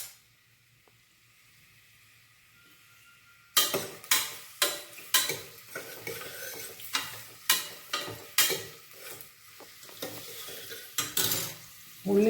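Onions frying in hot oil for Thalassery mutton biryani, a steady sizzle broken by a rapid series of sharp scraping stirs of a spoon against the pan, close and loud after a quiet start.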